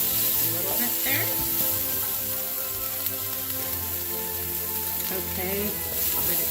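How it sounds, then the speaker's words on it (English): Eggs sauteing in a pan for a homemade Thai curry Dungeness crab, a soft continuous sizzle and crackle with faint stirring scrapes throughout. "Then we're going to add 3 eggies. Let that saute a"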